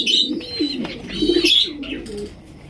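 A pair of Bombay pigeons cooing up close in repeated throaty, rolling calls with a few higher chirps, loud and clear with no voices over them.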